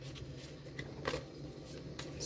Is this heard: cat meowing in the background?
no